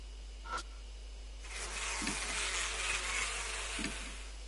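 An insect hive buzzes in the video game Spirit Hunter, a steady, moderately loud droning hiss that swells in and holds, with a few faint knocks underneath.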